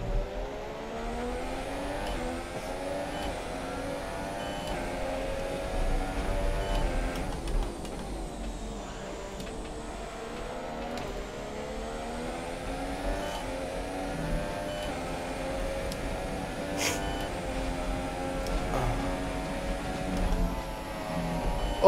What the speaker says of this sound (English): the double downshift once again from 7th to 5th